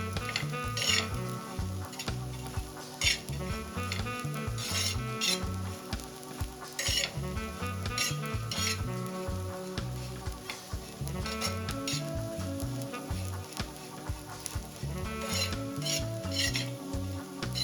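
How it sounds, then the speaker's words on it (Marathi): Prawns roast and sizzle on low flame in a pan for Marathi dried-prawn chutney, a continuous frying hiss broken by repeated rhythmic clinks and scrapes of stirring. "लो फ्लेमवरच झिंगे भाजून घ्यायचे"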